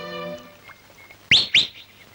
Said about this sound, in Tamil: காலங்காத்தால விசில் அடிச்சுண்டு.